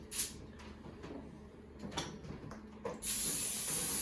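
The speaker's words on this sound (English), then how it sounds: "A little vegetable spray." A short hiss from a vegetable cooking spray can onto a foil-lined baking sheet plays close by, with a few soft clicks and knocks before it.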